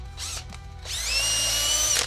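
A power drill bores a hole in a miniature's base, with two quick revs followed by a sustained high-pitched whine lasting about a second, close and loud, with no voices.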